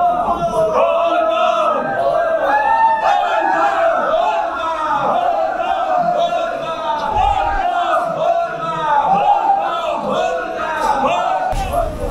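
A dense crowd of pilgrims at the Deoghar Shiv temple keeps up loud continuous chanting and shouting, many voices close together in a rolling, rhythmic roar with no pause.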